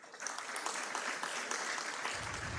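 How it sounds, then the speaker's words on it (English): A university innovation-week audience applauding a presenter: a dense, steady burst of many hands clapping from a large crowd, heard at a distance and fairly faint. "I request that we applaud Rachel once again because of that powerful"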